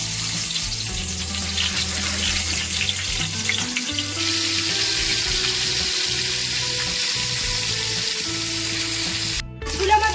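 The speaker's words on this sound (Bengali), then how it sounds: "আমি কড়াইতে সর্ষের তেল গরম করে নিয়েছি। এবার মাছগুলোকে আমি এর মধ্যে ছেড়ে দিচ্ছি ভাজার জন্য।" Rohu fish pieces sizzling steadily in hot mustard oil in a wok, a loud continuous crackle with a brief clatter near the end and no talking.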